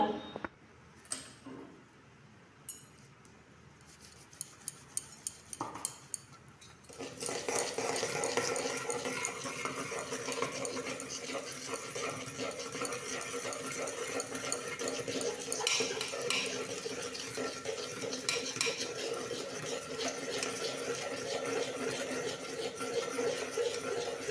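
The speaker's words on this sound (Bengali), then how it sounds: "এবার আমি সব কটা উপকরণকে ফেটিয়ে নেব।" A bowl of yogurt, sugar and cardamom powder for lassi being whisked: a few light clinks and taps at first, then a steady scraping, churning rhythm of utensil against bowl for the rest, fairly close and alone.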